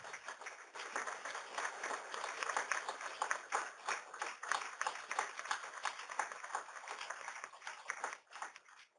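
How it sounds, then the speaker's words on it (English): Applause for the contributors to BigBlueButton at a BigBlueButton Day gathering: a steady crowd of clapping hands, fairly faint and distant, lasting the full stretch before fading near the end. "give a big round of applause to all the contributors to BigBlueButton"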